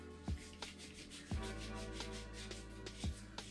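A Brand X Ascend dropper post collar being unscrewed by hand, giving a soft continuous rubbing and scraping with a few sharper low knocks at irregular moments, close and fairly quiet with no talking.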